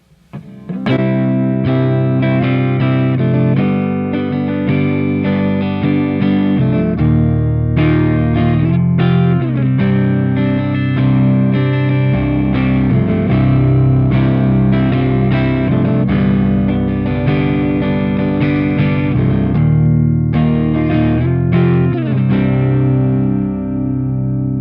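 Electric guitar with custom Aero pickups, played on the neck pickup through heavy distortion: sustained chords and riffs ring loud and continuous, with sliding notes and brief pauses between phrases.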